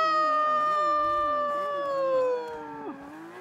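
Tires squeal as a four-wheel-drive Lamborghini Aventador drifts in the racing game Forza 5, a loud, wavering screech sliding steadily downward in pitch before fading out.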